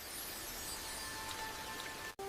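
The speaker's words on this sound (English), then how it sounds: "The rain lasted 3 days." Steady rain pours down in a dense, even hiss, continuous and close, with no voices, then cuts off abruptly at the very end.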